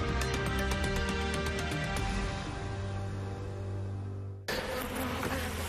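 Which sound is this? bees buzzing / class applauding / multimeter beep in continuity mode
bees buzzing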